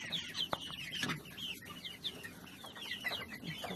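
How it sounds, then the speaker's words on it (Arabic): Local baladi chickens scratching in a wood-shavings bedded coop, giving soft scattered clucks and chirps at moderate distance over quiet rustling, with no talk. "عارفين الفراخ البلدي ما بتبطلش نكش"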